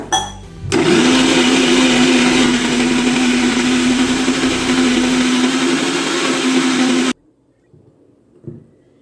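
A mixer grinder whirs loudly and steadily for several seconds with a constant motor hum while grinding ration rice into idli batter, then cuts off abruptly, leaving faint clinks and quiet.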